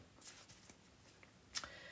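Tarot cards being shuffled by hand, soft quiet riffling and sliding brushes through most of the stretch, ending in a sharper snap of cards near the end, with no talking over it.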